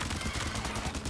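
Rapid bursts of gunfire in the video game Death Stranding 2, a dense rattling volley over continuous in-game noise.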